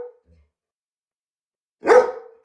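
A single dog gives one sharp, loud bark close by after near silence, while barking up a tree.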